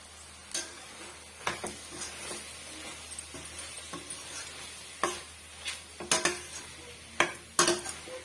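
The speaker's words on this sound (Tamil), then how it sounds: "இப்போ ஒரு ரெண்டு நிமிஷம் வந்து வதக்கி விட்டுக்கலாம்" Chettinad chicken gravy sautéing with salt in a pan, quiet sizzling broken by repeated clinks and scrapes of a metal spoon stirring against the vessel.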